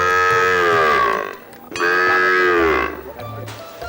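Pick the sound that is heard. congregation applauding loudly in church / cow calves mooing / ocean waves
cow calves mooing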